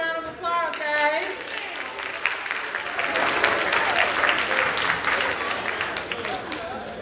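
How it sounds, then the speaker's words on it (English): A school district audience applauds its band with loud, sustained clapping that swells and fills the hall, following a short stretch of speech at the start. "Let's give our band a round of applause"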